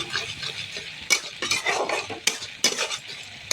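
Spice masala is stirred and fried in a pan for an aloo-potol curry, with a steady close sizzle broken by several sharp scrapes and clinks of a utensil against the pan, and no talking.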